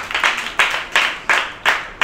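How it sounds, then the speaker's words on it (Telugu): Children in a classroom language game clap for a classmate in a slow, steady rhythm, five loud, crisp group claps close together at even intervals. "దీవెనకు అందరు చప్పట్లు కొట్టండినా"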